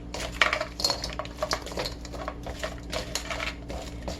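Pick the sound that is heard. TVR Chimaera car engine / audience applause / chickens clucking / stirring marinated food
stirring marinated food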